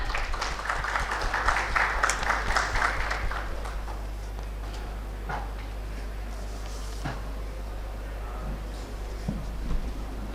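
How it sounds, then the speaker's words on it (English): Audience at a railway technology expo giving a round of applause, the clapping strongest in the first few seconds and then thinning into scattered claps and room noise over a constant low hum. "Can we please have a big round of applause, everyone?"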